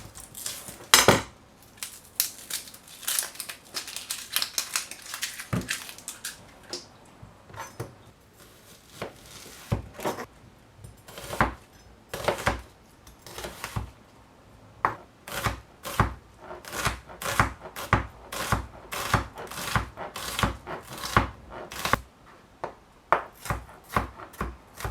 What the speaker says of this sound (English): I'm going to cut up a small onion.